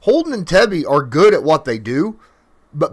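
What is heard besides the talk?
No distinct noise like a dog, phone or traffic.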